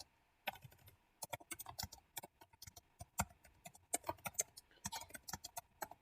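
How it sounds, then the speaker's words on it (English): Rapid typing on a computer keyboard, close and fairly quiet, with irregular bursts of clicking keystrokes and short pauses between words. "I'm just going to type it in."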